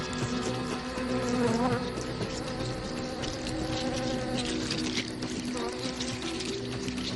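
A hornet tears apart a mantis, a steady insect buzz with faint crunching, continuous and close throughout.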